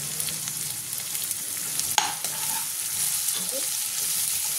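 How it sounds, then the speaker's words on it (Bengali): Shredded cabbage and chopped green chili frying in a pan for chicken chow mein, a continuous bright sizzle with one sharp spatula knock midway and light stirring scrapes, close and steady, no talking. "দিয়ে দেবো কাঁচা লঙ্কা কুচিটা। এটা একটু ভালো করে ভেজে নেব আমি।"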